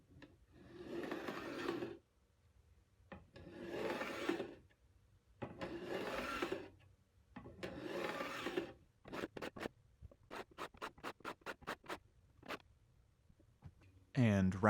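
A file beveling fret ends on a guitar neck, first three long sustained rasping strokes, then a run of short quick rhythmic strokes, close and clear against quiet gaps.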